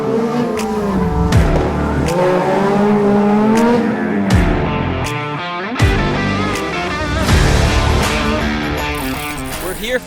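Cars race through a slalom course at Robinson Santa Rosa, engines revving hard and rising and falling in pitch as they pass close by, with sharp bursts of tire squeal and a voice speaking under the noise.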